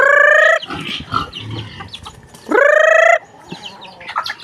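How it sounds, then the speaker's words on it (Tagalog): Pigs squeal loudly and hungrily at feeding time in a backyard piggery while chickens cluck nearby; two long, close, high squeals bracket a stretch of softer grunts and clucking. "Naagak na nga po ang mga baboy, nahingi na ng pakain."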